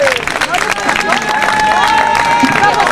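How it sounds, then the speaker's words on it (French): Audience applause and crowd noise at a Corsican national festival in Corte, clapping mixed with cheering and babble, loud and continuous with voices under it. "Je vais vous demander d'applaudir sur la scène"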